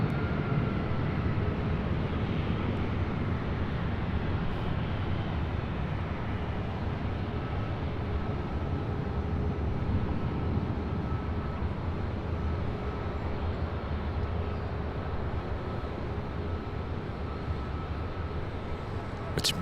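Delta flight 885, a Boeing 737-700, departing LAX: a steady, broad jet engine roar that holds loud and even for the whole stretch, no talking over it.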